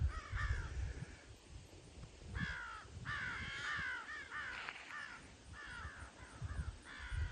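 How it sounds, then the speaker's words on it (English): Crows caw agitatedly at a cemetery on the grounds of a former state hospital, repeated harsh calls in short bursts from several birds at mid distance over low wind rumble and footsteps, with no talking. "Birds are not happy that I'm here."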